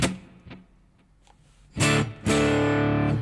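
An electric guitar played through a delay effect: a few picked notes echo and fade into quiet, then two loud distorted chords ring out and sustain, with no one talking.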